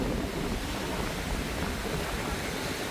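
Ocean surf on Boracay beach on a day of fairly strong waves, a steady broadband wash of breaking water with wind, continuous and fairly loud without talk.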